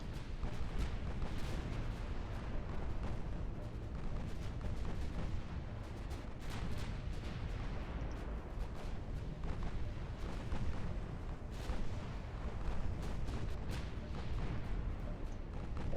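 Naval guns booming in the warship battle game Ultimate Admiral Dreadnoughts, firing at long range with mortar-style guns. Dense, continuous low rumbling with repeated heavy blasts fills the whole stretch, and no voice is heard.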